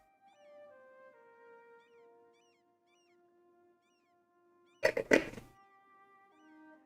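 A cat gives a short, sharp meow up close, standing out over a quiet background of soft sustained musical tones.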